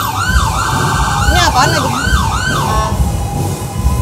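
An ambulance siren wails in repeated rising and falling sweeps, loud and close as it passes, then fades toward the end; traffic rumble underneath and a brief voice speaks over it.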